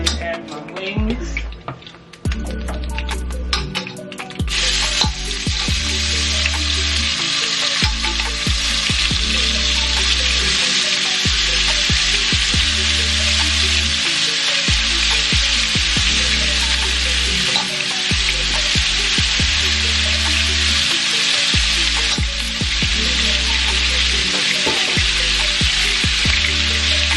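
Chicken wings seasoned with sazon and brown sugar fry loudly in a pan, a dense, continuous sizzle with scattered crackles and stirring clatter over a low hum, close and sustained, without talk.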